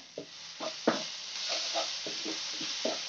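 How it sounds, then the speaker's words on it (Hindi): Chicken meat and masala with Maggi seasoning frying in a pan, a steady close sizzle broken by regular scraping strokes of a stirring spoon, with no talking. "मसाला को अच्छे से भूनने के लिए छोड़ देंगे"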